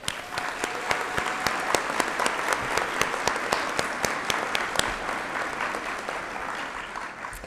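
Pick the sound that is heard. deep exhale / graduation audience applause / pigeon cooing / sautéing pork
graduation audience applause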